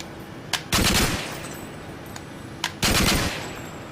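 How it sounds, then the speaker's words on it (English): A video game weapon on 3-round burst fire, set up through the Tyr's Hand rapid fire feature: two separate loud, rapid bursts a couple of seconds apart. Each burst is preceded by a faint click. "we now get 3-round burst firing for our single fire weapons"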